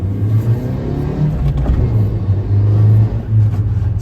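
A car engine hums and rises in pitch as the driver works through the gears of a manual transmission on an open road, with a steady low drone and brief dips at each shift, close and fairly loud.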